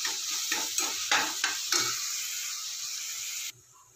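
Onions with ginger-garlic paste fry in ghee for ghee rice, a loud steady sizzle broken by several sharp stirring scrapes in the first two seconds, then continuous frying until it drops off abruptly near the end.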